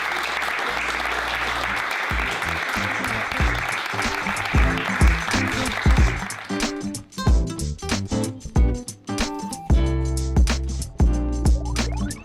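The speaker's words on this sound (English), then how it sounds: "Massive round of applause for Joey." A large audience claps steadily and loudly throughout, a dense wash of applause that turns choppier and more uneven toward the end.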